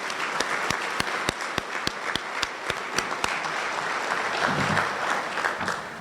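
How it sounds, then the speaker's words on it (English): An audience at an awards event for peace officers and firefighters applauds sponsors, a steady clatter of many hands clapping with sharp individual claps standing out, moderately loud, then fading. "Let's give all of our sponsors a round of applause."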